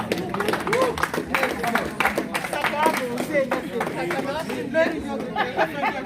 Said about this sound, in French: on doit se donner un grand applaudissement pour nous tous